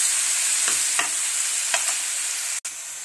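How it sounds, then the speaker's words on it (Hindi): Apple pieces frying on a low flame for apple halwa, with steady soft sizzle and a few light scraping stirs of a spoon in the pan, alone without talk. "अब इसमें डाल देंगे ये सेब और लो फ्लेम पे इसको गोल्डन ब्राउन होने तक भून लेंगे।"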